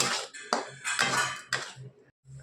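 Spice masala being stirred and sautéed in a pan for prawn malai curry, with a spoon scraping and clattering against the pan in repeated bursts and short pauses between strokes.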